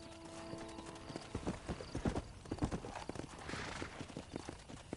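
Hoofbeats of a horse galloping in the Western video game Red Dead Redemption, a steady, fairly loud clip-clop rhythm with a brief whinny, over faint game music and ambience.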